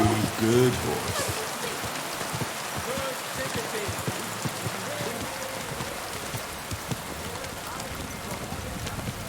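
Steady rain pours down outdoors near a horse, a dense, even hiss of drops on surfaces that holds for the whole stretch, with a faint voice briefly at the start.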